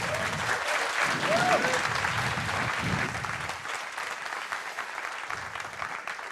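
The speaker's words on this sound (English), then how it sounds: "A big round of applause for Jake, please." A crowd at a space conference applauds with dense, steady clapping, louder at first and then tapering slightly but continuing to the end.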